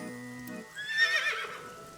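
A horse in the video game AI: The Somnium Files neighs once, a clear whinny that rises and trails off after a brief low tone, fairly close and not loud.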